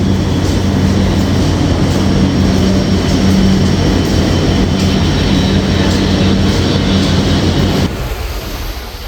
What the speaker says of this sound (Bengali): খুব অল্প সময় যাত্রা বিরতি দিয়ে ট্রেনটি প্রবেশ করল আলো ঝলমলে যমুনা সেতুর ওপরে